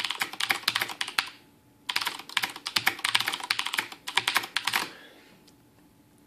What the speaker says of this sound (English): this is typing a lot more aggressively with bottoming out